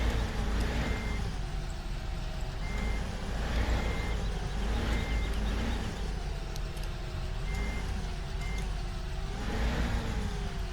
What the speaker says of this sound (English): It's just these tractors, when they back up, they go so fast.